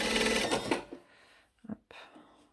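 A sewing machine runs fast and loud while stitching a narrow 0.5 cm hem on a blouse sleeve, then stops abruptly, leaving a few soft handling clicks and thumps.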